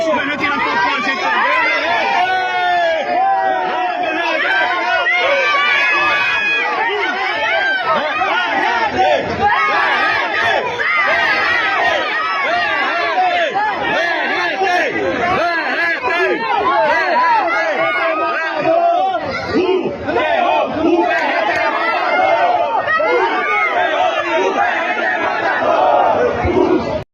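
Vasco da Gama football supporters chant and cheer in a loud, continuous crowd roar as they welcome the team, voices massed and close throughout.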